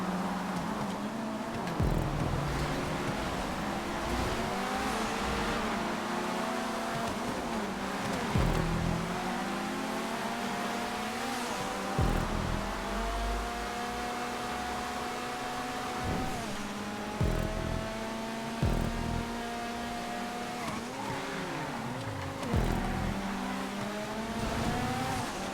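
Kuruma cars race around a track near the airport in GTA 5, engines revving and shifting continuously with repeated accelerations, tire squeals and passes throughout.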